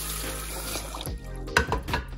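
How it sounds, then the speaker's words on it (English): Tap water pours into a pot of rice, a steady running gush that ends with a few splashing, gurgling bursts. "Next, add in your water."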